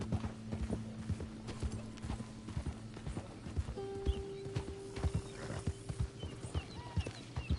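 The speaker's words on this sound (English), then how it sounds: "Look at that little pony." A pony's hooves clip-clop in a steady walking rhythm in the Red Dead Redemption game, with a couple of whinnies partway through, fairly faint under a low ambient hum.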